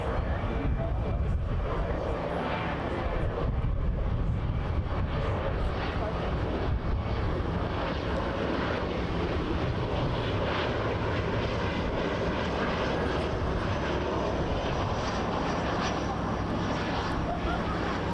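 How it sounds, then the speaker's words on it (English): A Boeing 787-9 Dreamliner from Manchester arrives at Toronto Pearson on runway 24L. Its jet roar is loud and steady throughout while people talk nearby outdoors. "7879 Dreamliner coming in from Manchester."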